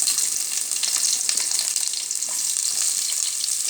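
Onions sizzle in a hot pan for mutton kuzhambu, a loud, steady, close-up crackling hiss that holds without pause.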